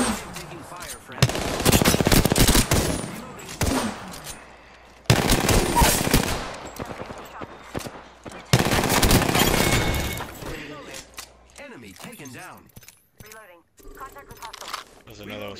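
Automatic gunfire in the Apex Legends video game: several long, loud bursts of rapid shots separated by short pauses, then sparser scattered shots and effects, with a player talking over the action.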